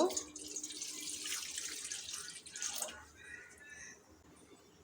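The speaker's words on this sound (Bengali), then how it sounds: "কড়াতে জল দিয়ে দেব" Water poured from a tap into a kadai cooking pan while soya chunks are being prepared: a steady splashing stream for about three seconds, then fainter trickles and drips.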